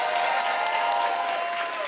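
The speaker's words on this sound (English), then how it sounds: "give yourself a round of applause, interns" Interns receiving a round of applause from the audience at an end-of-year event. Dense, continuous clapping from a sizable crowd fills the short stretch at steady loudness, without talk.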